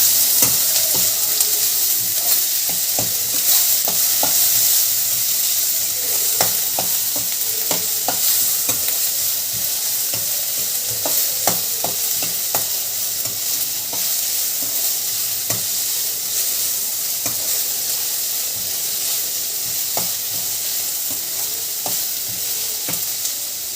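Tomato pieces frying with onion and garlic in a pan for an eggplant palya, a steady bright sizzle with occasional stirring scrapes and clinks, close and continuous with no voices.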